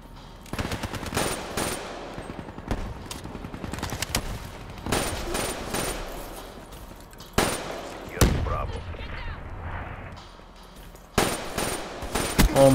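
Rapid automatic gunfire rattles through a Call of Duty Black Ops Domination match on PS4, bursts of machine-gun fire repeating in quick volleys with short pauses, loud and close, with someone talking over parts of it.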